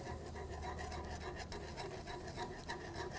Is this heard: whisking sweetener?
yes